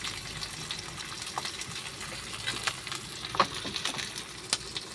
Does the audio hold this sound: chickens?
no